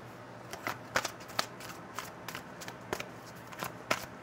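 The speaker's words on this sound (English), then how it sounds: "Just moving my cards over." Tarot cards slide and tap across a table in a series of light, close papery swipes and clicks, fairly quiet with no talking.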